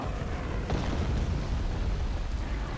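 Bombardment explosions from the Star Wars Empire at War game, Clone Wars mod, roll in as a continuous low, rumbling blast with one sharper burst near the start.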